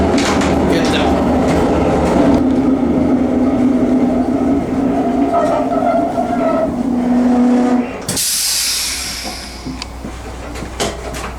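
A train pulls into Diósjenő station in Hungary: a loud, close rail rumble with wheel clatter and a rising whine eases off near the end, followed by a brief hiss and quieter station ambience, with faint speech.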